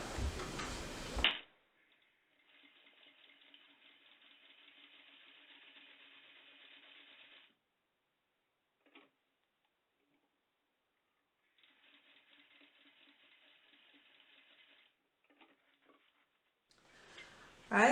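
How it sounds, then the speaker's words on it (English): Sewing machine running in two bursts as it stitches down the raw fabric edges of a scrunchie, a steady rapid mechanical patter, fairly quiet and close, separated by a pause with light handling sounds. "you're going to take this to the sewing machine and you're going to sew down those raw edges"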